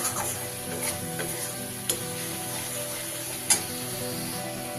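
Kashmiri chilli, coriander and cumin powders frying in a pan, a continuous low sizzle with occasional brief stirring clicks, one louder knock near the end, no voices.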